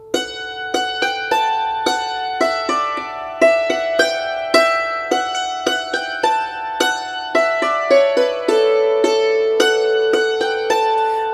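Hammered dulcimer plays the B-part phrase of the fiddle tune Soldier's Joy, a steady run of bright struck notes with ringing sustain, close and clear with no voices.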